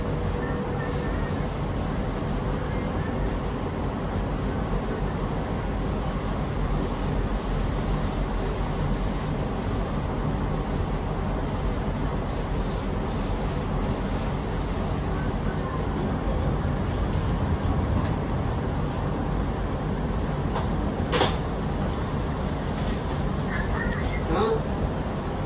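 Steady interior rumble and rolling hum of an NSW Trainlink Oscar H set train on the T1 Western Line near Blacktown, continuous and moderately loud, with faint background talk.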